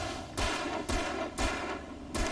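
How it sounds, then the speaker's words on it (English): Gunfire in the video game Alan Wake, with four loud, evenly spaced blasts about half a second apart, each one followed by a short ringing tail and no talk over them. "Just shoot him."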